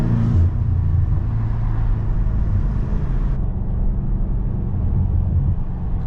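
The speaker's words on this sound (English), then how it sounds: "once you give it some gas, this thing does not stop" BMW M8 Competition driven hard, its engine roaring loud and steady under throttle with a continuous low rumble and no talk.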